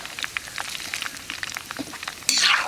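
Young teak shoots frying in oil for a burn ointment give off a soft, even sizzle with scattered crackles, ending in a brief louder hiss.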